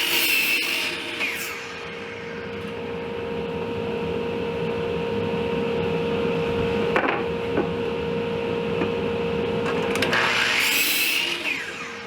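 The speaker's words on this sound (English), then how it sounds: "I'm going to be cutting these 2x3s at 40 inches long." Saw cutting 2x3 pine lumber to length for a basement bar frame in a workshop, a steady sustained whine running nearly the whole stretch with a brief dip midway and a louder burst near the end, no talk.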